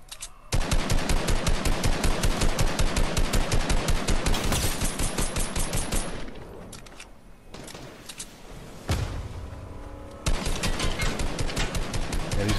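Rapid automatic gunfire in a VR battle royale game, a long, loud, evenly spaced burst that stops, a quieter pause with a door-like thud, then another steady burst of shots; no talk.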